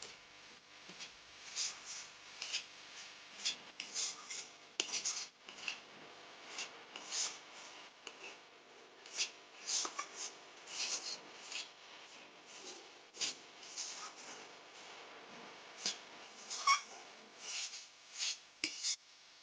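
Semolina dry-frying in a pan while being stirred, faint irregular scraping and light ticking taps of a spatula against the pan, quiet and close throughout.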